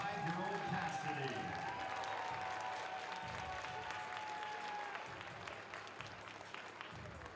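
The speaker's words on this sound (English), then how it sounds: "Applause for today's Rudy Junior PA announcer, 5-year-old Cassidy" Softball fans at a college game between Oklahoma and Louisiana applaud in the stadium, a broad, fairly distant clapping crowd that slowly fades, with voices and a sustained tone over it.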